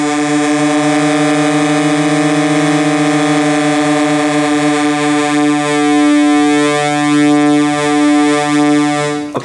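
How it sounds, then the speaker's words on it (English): A loud, sustained analog synthesizer oscillator tone modulated by very fast white noise, with a buzzing, rough edge, its harmonics wavering faster and more unsteadily toward the end. "we're hearing very, very fast white noise. Basically, white noise modulating the oscillator."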